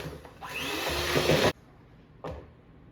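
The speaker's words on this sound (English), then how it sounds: "We're now going to add 1 egg and 1 teaspoon of vanilla. Beat that together." A kitchen mixer beats an egg and vanilla into cookie batter, a steady close whirring drone for about a second, then a pause and a short second burst.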